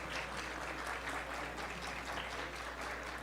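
Audience applause at a book launch for a neurology text, a dense continuous wash of many hands clapping at even strength throughout, no talk over it.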